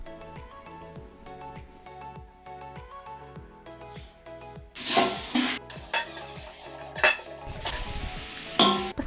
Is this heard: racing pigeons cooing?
no